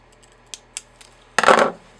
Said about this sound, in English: what I'm going to do is go ahead and cut my own leader